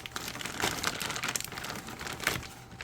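A taped-shut plastic bag holding foam-packed forged carbon fiber motorcycle parts being pulled open, with close crinkling and rustling in uneven bursts, no voice.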